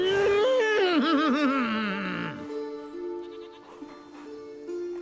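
A horse in The Witcher 3: Wild Hunt, Blood and Wine, lets out a loud, wavering whinny that trembles and slides downward, followed by softer, quieter tonal sounds.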